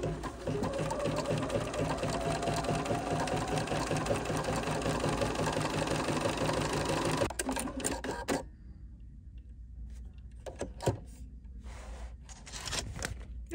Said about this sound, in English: So I would like to just try a little honeycomb stitch.